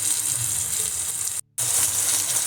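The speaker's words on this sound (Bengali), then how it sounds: "টমেটো কুচি, জল দিয়ে মশলাটাকে কষিয়ে নেব।" Spice paste sizzles and sautés in a pan with chopped tomato and water for Bengali mochar ghonto (banana flower curry), a steady loud frying hiss broken by one brief silent gap.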